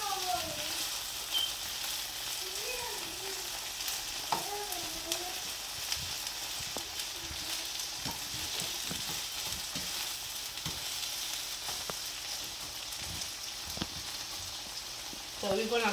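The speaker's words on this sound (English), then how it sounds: "So we're frying it." Cicadas fry in a pan with a steady, continuous sizzle throughout, punctuated by small pops and occasional stirring clicks, with a voice faintly audible beneath at times.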